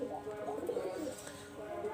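A Pakistani high-flying Oman Teddy pigeon coos up close, giving low, rolling warbles in a short continuous run.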